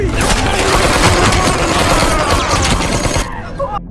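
Dense film gunfight with continuous loud automatic gunfire and rapid overlapping shots, which stop abruptly near the end.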